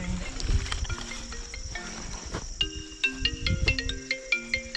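A mobile phone ringtone plays at a night campsite during an off-road biking camp, a melodic string of bright electronic tones that grows louder and more rhythmic partway through, over a faint background hiss.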